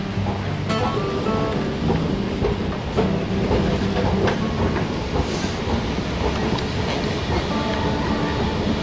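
A train rumbles and clatters at London Paddington station, a loud continuous rolling with rhythmic wheel clicks and squeals close by.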